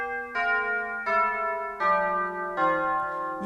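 Electronic organ chime stop playing a slow descending sequence of five bell-like tones, each struck clearly and ringing on with rich overtones, alone and close.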